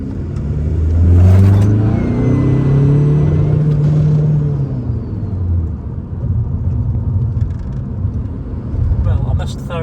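A VW 1.9 TDI PD130 diesel car rolls slowly in second gear with a loud, continuous rumbling drone and a rising then falling whine, as someone talks over the engine noise inside the cabin.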